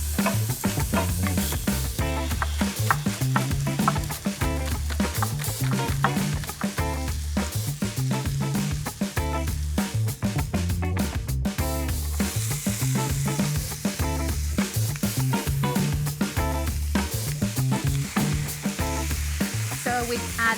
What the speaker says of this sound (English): we're gonna start searing this meat